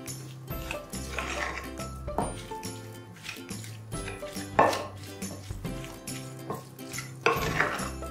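A spoon scrapes and clanks against a pot while rice and vegetables are stirred together for Djerban rice, giving irregular metallic knocks and rattles with a low hum underneath and no speech.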